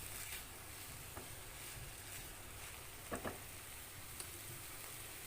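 Onions fry with keema for a keema samosa filling, giving a faint, steady sizzle throughout with a few soft stirring clicks and scrapes near the middle.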